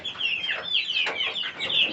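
Hens cluck continuously and close by in a chicken house on a small poultry farm, a busy overlapping chorus of short, excited calls.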